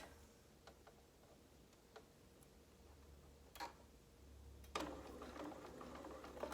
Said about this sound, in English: I start sewing about 1 inch from the end where the point is.